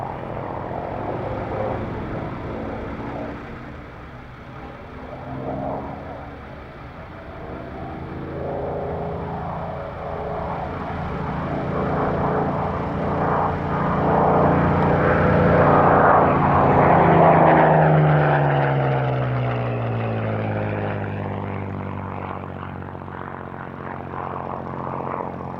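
A two-seater Spitfire, converted by Vickers after the war, flies past at the Duxford airshow, its propeller engine droning steadily and swelling louder as it nears, then shifting pitch as it passes and recedes.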